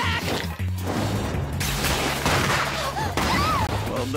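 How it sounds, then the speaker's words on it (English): Explosions in the Demon Slayer anime's Entertainment District arc go off as a dense, loud barrage of blasts and crashes, with no quiet gaps between them. "those are unique explosions"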